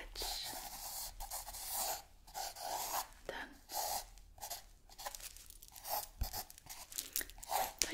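A pen scribbles a quick sketch on paper in a close, quiet ASMR-style recording, with bursts of rapid scratching strokes separated by short pauses and soft breathy sounds between them.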